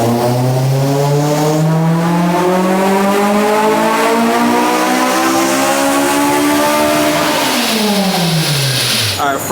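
A K20A-powered Honda Civic EK hatchback revs hard on a dyno, loud and close, its engine note climbing steadily through the gears for about seven seconds before dropping off sharply at the end of the pull.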